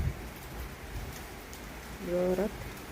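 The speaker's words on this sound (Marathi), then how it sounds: "सकाळपासून रात्रीपासून असं पाऊस चालू आहे" Steady rain with wind patters and hisses throughout at Vihitgaon, India, with a brief voice-like tone rising near the end over the constant wash of falling water.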